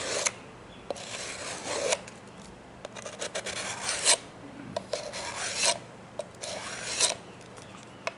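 A pocketknife blade scrapes back and forth across 150-grit sandpaper in repeated rasping strokes of about a second each, close and fairly loud with brief pauses between passes and no voices.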